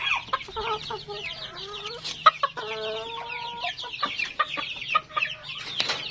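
Japanese Bantam hens clucking close by on a farm, a busy run of short repeated clucks and a few drawn-out calls, with some faint speech mixed in.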